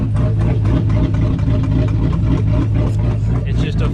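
Supercharged GMC Sierra pickup engine running in gear while propped on a floor jack, a loud steady low rumble close by with a voice talking over it throughout.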